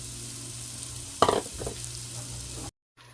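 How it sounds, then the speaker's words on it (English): Onions sautéing in melted butter give a steady background sizzle. A louder burst of hissing comes as they go in and get stirred, then the sound settles and cuts out near the end. Nobody talks. "Now we're going to add our onions, and we're going to saute them down."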